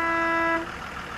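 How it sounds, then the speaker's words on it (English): A bus horn sounds in one sustained blast, loud and close, then cuts off into a rumbling engine noise. "Bus."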